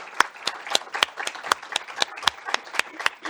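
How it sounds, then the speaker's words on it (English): An audience at a social tech demo day claps for presenting ventures, a brisk, evenly paced run of sharp hand claps heard close up. "we just give them a warm round of applause"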